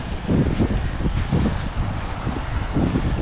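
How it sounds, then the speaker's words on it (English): Wind buffeting an outdoor microphone at a lakeside fishing spot, steady rumbling gusts with irregular low thumps throughout, no talking. "Quite windy today, which is good."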